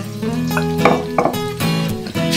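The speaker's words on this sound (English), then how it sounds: "into that garlic, I'm going to go ahead and put my shrimp" Shrimp dropped into a pan of finely minced garlic, giving a close, steady sizzle broken by a few clattering stirs and scrapes across the pan.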